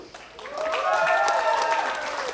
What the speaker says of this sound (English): The next clap off, Alex Love.